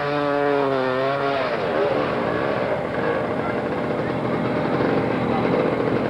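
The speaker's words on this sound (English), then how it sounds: "1948 M Tractor and a hayride for the hayrack" A 1948 M tractor pulling a hayrack in a small-town Iowa centennial parade, its engine chugging nearby with a steady pitch that wavers and then settles into a rougher, lower rumble.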